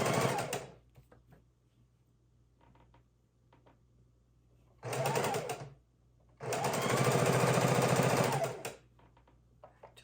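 A sewing machine stitches quilt seams for a Halloween quilt in three loud, close bursts, one brief, then a short run and a longer steady run, with quiet pauses between.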